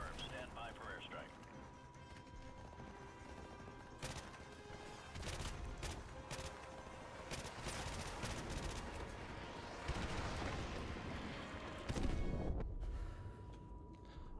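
Video game combat gunfire near a landing zone, sharp repeated shots and bursts cracking over continuous rumbling battle noise, with a voice speaking in the background.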